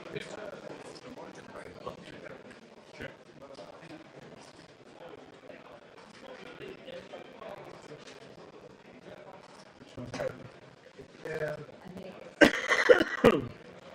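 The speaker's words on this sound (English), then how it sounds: "you can hear sort of coughing in the background" Someone coughs several times in the background beneath ongoing conversation, with a louder burst of coughing near the end.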